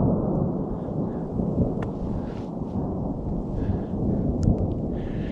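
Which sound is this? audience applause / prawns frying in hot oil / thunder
thunder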